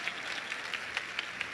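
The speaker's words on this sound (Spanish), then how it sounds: "Un aplauso, hombre." Applause from an audience at a workshop on study plans, faint and steady clapping that fills the whole short moment.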